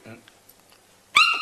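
A voice actress yelps a short, high-pitched puppy-like whimper in imitation of a puppy, preceded by a brief bit of quiet Japanese speech.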